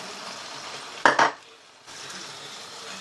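Rice and chicken being stirred in a wok, low background sizzle broken by two quick loud clanks of a utensil against the pan, then the quiet frying resumes.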